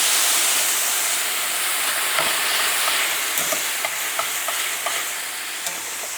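Pasta is shifted into a pan of hot pasta water over a loud, steady sizzle and steam hiss, with a few sharp clinks and scrapes of utensils scattered across it.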